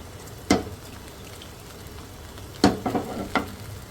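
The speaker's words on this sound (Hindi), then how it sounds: "एक पैन में मैं थोड़ा सा लूँगी ऑयल, और इसमें मैं कर लूँगी अंडों को फ्राई।" Eggs fry in oil in a pan with a constant light sizzle, broken by a few sharp spattering pops and a cluster of crackles near the end, close and fairly quiet.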